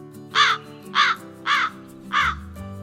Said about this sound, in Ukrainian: Це ворона.